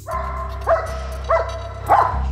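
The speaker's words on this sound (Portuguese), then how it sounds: "Uma das malas apresenta um conteúdo suspeito e deixa o cão farejador agitado" Sniffer dog at an airport customs inspection growing agitated over a suspicious suitcase: three short barks spaced about half a second apart, fairly close, over a steady low mechanical hum.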